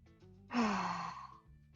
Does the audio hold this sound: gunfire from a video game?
no